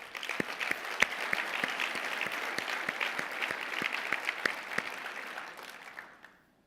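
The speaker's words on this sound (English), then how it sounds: "So let's give that community a round of applause" An audience at the Port of Long Beach State of the Port 2018 event claps steadily in a dense round of applause, even in level, then fades out to silence near the end.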